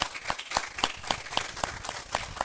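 At a talk on women's participation in politics, the audience applauds in a rhythmic, fairly steady round of clapping with regular beats and little talk over it.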